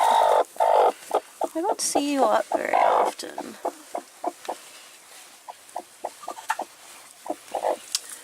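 Farm chickens cluck in quick, scattered bursts near at hand while someone talks softly over them.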